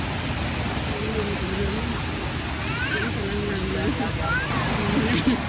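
Steady broadband rush of a waterfall near Vang Vieng, Laos, continuous and close, with people's voices chatting faintly over the roar.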